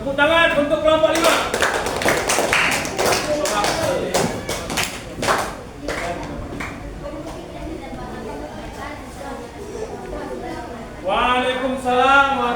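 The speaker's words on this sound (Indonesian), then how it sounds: "Ya, tepuk tangan untuk kelompok 5." Clapping for group 5 in a grade 6 Indonesian classroom, a burst of many hands with sharp taps for several seconds, then fading into murmuring chatter before a voice speaks at the end.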